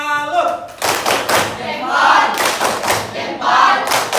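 A classroom of vocational high school students performs a salute clapping routine, with several bursts of claps and hand thuds in quick succession, loud and close, blended with voices and shouting.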